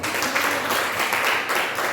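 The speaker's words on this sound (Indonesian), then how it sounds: "Beri tepuk tangan dong." A church congregation breaks into loud, dense applause, with many hands clapping together in a steady wash of sound that lasts the entire moment.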